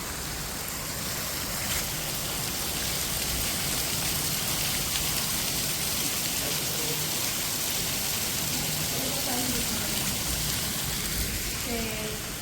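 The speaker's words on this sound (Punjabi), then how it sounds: "ਬਾਹਰ ਦੇਖੋ ਮੀਂਹ ਬੰਬ ਕੱਢੀ ਜਾਂਦਾ" Heavy rain pours down outside in a steady, loud, unbroken hiss across the whole stretch, with faint voices partly buried beneath the downpour.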